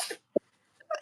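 A single short, sharp sneeze bursts out close to the microphone, framed by faint breathy sounds at the start and end of the moment.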